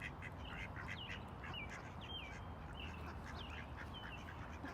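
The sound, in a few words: ducks quacking on a beach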